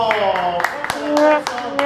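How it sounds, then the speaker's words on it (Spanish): Scattered audience clapping at an interview event, a few sharp separate claps sounding under a voice that talks throughout. "Recibamos con un fuerte aplauso de los cuatro rudos,"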